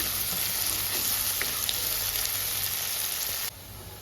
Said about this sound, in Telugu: ఇవి బ్రౌన్ కలర్ వచ్చేంత వరకు ఫ్రై చేసుకోవాలి